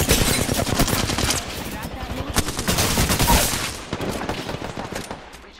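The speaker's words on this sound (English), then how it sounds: "Enough, I'm getting shot at." Dense, loud automatic gunfire crackles in rapid bursts during an Apex Legends match, nearly continuous before tapering off toward the end, with game voice lines briefly under the shots.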